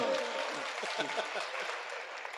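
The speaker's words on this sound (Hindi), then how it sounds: "बस तालियां बजाओ एक बार" Audience applause at a comedy poetry show in a hall, a dense steady patter of many hands clapping through the whole stretch with faint voices mixed in underneath.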